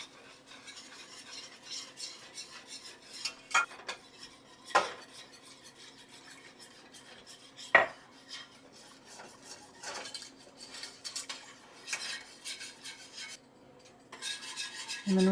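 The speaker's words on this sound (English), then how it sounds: "it'll deglaze your pan to get all those delicious juices and flavors off of the bottom" Quiet scraping and stirring of a pan being deglazed for Swedish meatball gravy, soft rasping strokes with a few sharper metallic clinks of the utensil against the pan.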